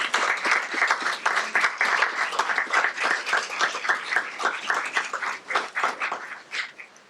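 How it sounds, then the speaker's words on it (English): A small audience at a school board meeting applauds, a sparse cluster of individual claps heard close and distinct, tapering off near the end. "please give a big warm round of applause for Joshua Ben."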